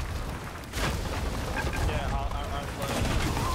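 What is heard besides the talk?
ship cannons firing in pirate ship battle video game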